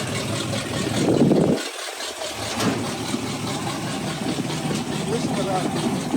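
A 1950 Chevy 1-ton flatbed truck engine idles steadily nearby, a low continuous rumble, with a brief louder rev or rattle early on and talk heard over it.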